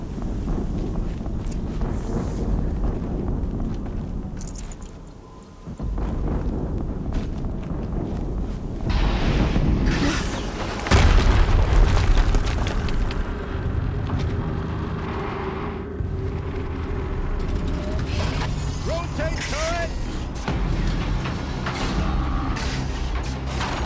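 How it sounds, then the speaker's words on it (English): Explosions in the video game Horizon Zero Dawn, deep rumbling blasts with a loud surge near the middle, amid mechanical clanking and game ambience, with no speech. "Another explosion."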